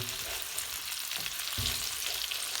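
Food frying in a pan while being stirred, a continuous sizzle with a couple of low scraping strokes of the utensil.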